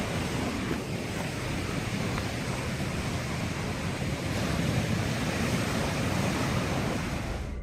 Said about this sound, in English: despite the waves crashing over the rocks